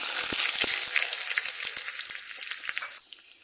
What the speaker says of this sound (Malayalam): എണ്ണ ചൂടായി കടുക് ഇട്ട് കൊടുക്കാം കുറച്ച് ഉള്ളി അരിഞ്ഞിട്ട് കൊടുക്കാം